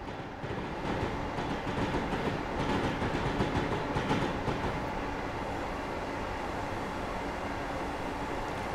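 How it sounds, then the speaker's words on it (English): Amtrak Acela Express passenger train in Train Simulator 2015, running from New York to New Haven: a steady, continuous rumble of wheels on rails with faint rhythmic clatter, constant and fairly close throughout, with no talking. "this train is quite a it's quite a fast passenger train really"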